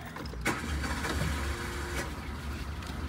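A small 45-horsepower French car, 32 years old, cranks and starts, a brief clatter followed by a low, steady idle heard from inside the car, with no talking.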